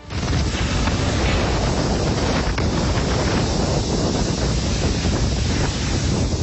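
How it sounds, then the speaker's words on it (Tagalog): Super Typhoon Lawin's winds roar across Cagayan as a loud, unbroken howl of storm gusts buffeting the microphone, steady and dense from start to finish with no voices. "Nakakapanindig balahibo ang nagagalit na ugong ng hanging dala ng Super Typhoon Lawin ng manarasa sa Cagayan."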